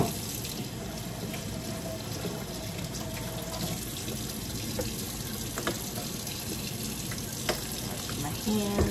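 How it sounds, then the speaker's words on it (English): Kitchen tap water running steadily into a sink while hands are washed clean of buffalo chicken filling, a constant close splashing hiss with small shifts and no talking. "Wash my hands, get this chicken filling off."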